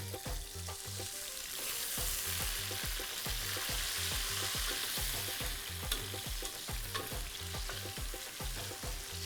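Tomatoes fry in a pan with a soft continuous sizzle under a quick, even rhythm of stirring strokes, heard close and fairly quiet.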